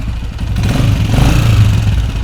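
A repaired Honda CG125 motorcycle engine runs steadily close by, a continuous low thumping idle with mechanical clatter and no voices over it.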